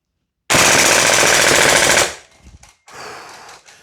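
A Double Eagle PSA JAKL MWS gas blowback airsoft rifle empties a full magazine in one loud, rapid, unbroken burst lasting about a second and a half, followed by quieter mechanical clicks and handling.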